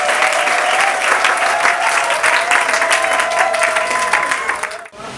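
Wedding guests at a civil ceremony applaud loudly and steadily, a dense wash of clapping with voices and a sustained tone mixed in, ending in a sudden brief drop.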